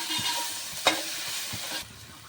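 Two spoons of ginger garlic paste frying in a pan for paneer pulao make a soft, continuous sizzle broken by a sharp utensil clink, easing off toward the end.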